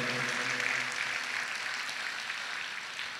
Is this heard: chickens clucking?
no